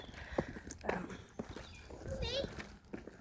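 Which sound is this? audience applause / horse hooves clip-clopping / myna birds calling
horse hooves clip-clopping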